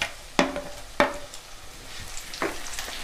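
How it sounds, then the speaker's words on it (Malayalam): Tomatoes dropped into a hot pan with onions and curry leaves for Kerala tomato chammanthi, a few sharp sizzling bursts as pieces land, then a steady close frying crackle without talking. "ഇനി നമുക്ക് തക്കാളി ഇടാം."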